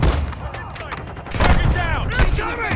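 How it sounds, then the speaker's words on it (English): Rapid gunfire in a first-person shooter game crackles in bursts of sharp shots, close and loud, while a voice talks over the action. "My left, I'm getting shot at."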